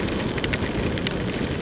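Water splashes and sprays while riding a Polytron Fox R electric motorbike through rain on a road, a dense steady hiss of spray and rain noise with brief louder spatters.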